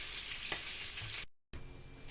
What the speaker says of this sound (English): I finished frying up the shrimp, and they came out nice and brown on both sides